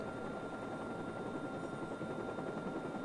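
Steady, continuous helicopter rotor drone from the video game Watch Dogs, a constant unbroken whir at moderate level with no speech over it.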